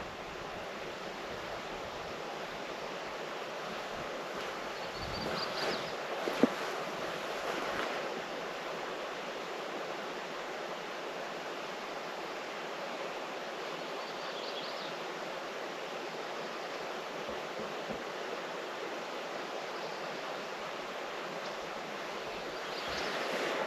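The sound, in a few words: wind blowing at a pond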